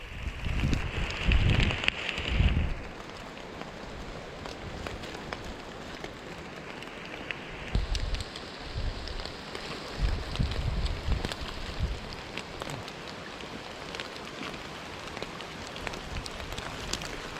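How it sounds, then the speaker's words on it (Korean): Steady rain falls on a river during a fishing trip in the rain, a continuous soft patter across the whole stretch with wind and rustling mixed in and a few brief louder bursts near the start. "아, 비 내리고 아주 기분 좋네."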